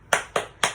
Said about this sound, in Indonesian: Yuk kita mulai. Tepuk P2K2-nya.